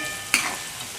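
Onion with ginger-chili paste sautés in a pan, giving a steady close sizzle. One brief scrape or clink of stirring stands out partway through.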